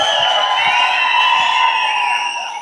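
An audience at a speech event cheers and whoops loudly in a sustained, shrill wash of voices that fades slightly toward the end.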